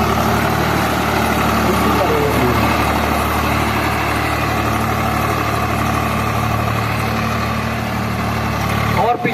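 A tractor, a Sonalika Maharaja or Swaraj 744 FE, idles with a steady, deep engine drone that holds unbroken for several seconds, with voices talking in the background.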